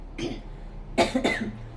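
A person with a cold and fever coughs, one short cough followed by a quick pair of harsher close coughs.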